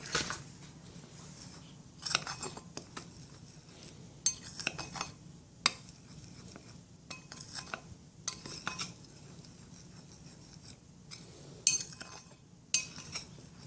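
A spoon or utensil works cacao powder into vegan chickpea-flour cookie dough in a bowl. Irregular clinks and scrapes against the bowl come in short bursts over about a dozen seconds, close and fairly quiet.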